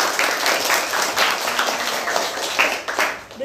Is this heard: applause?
yes